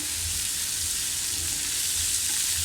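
Chopped onion and tomato for egg bhurji fry in a pan with a loud, steady sizzle, and soft periodic stirring scrapes run underneath.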